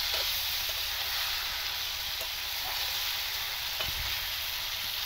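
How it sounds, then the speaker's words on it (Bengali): Tengra fish are stirred through spice paste in a hot pan, giving a continuous loud sizzling hiss with faint scrapes of stirring and no voices. "মাছগুলো দিয়ে ভালো করে মশলার মধ্যে একদম নাড়িয়ে চাড়িয়ে নিচ্ছি"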